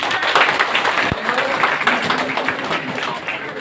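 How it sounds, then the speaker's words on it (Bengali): A crowd claps for people who answered quiz questions correctly at a gathering in a hall, a steady broadband wash of applause lasting throughout, with a voice faintly present underneath. "তাদের জন্য একটা হাততালি"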